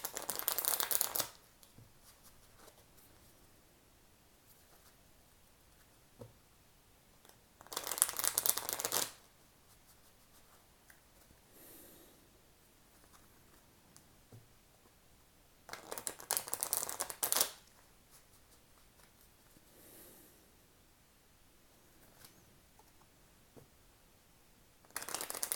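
Playing cards from a Portuguese Cigana de Sorte deck are shuffled in several short bursts of crisp riffling, spaced apart with quiet gaps between them, close to the microphone and with no talking.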